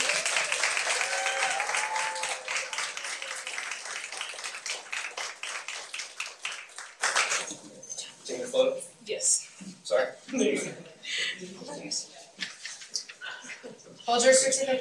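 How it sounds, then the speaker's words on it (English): A room at a school board meeting applauds its guests with a burst of clapping for about seven seconds, then it gives way to scattered talk and shuffling noises. "So another round of applause for our guests."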